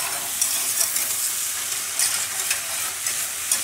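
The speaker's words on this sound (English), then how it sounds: "I'm going to whisk these in, kind of coat them with all the butter." Diced mirepoix is whisked into melted butter in a hot pan while making gravy, giving a steady bright sizzle broken by the scrape and stir of the whisk, close up and with no talking.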